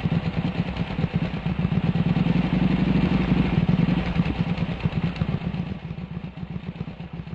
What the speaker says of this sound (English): Don't you guys love it when the motor engine vibrates between your thighs?